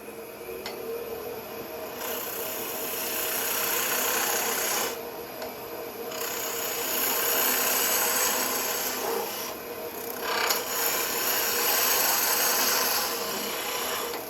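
Skew chisel cutting a damp wood goblet on a lathe, a continuous scraping, rasping shave that swells and eases in long passes with a couple of brief breaks, close and fairly loud.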